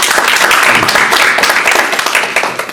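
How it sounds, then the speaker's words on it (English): Dense, steady applause from an audience at a tribute to Mahatma Gandhi fills the whole stretch, loud and sustained before easing slightly toward the end. "So let us give a round of applause for his soul"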